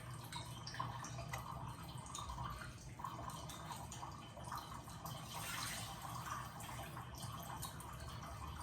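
Tap water runs steadily over vegetables, mushrooms among them, while they are rinsed for a veggie gumbo. The flow is a soft, continuous spatter with faint drips, heard close and alone with no voices.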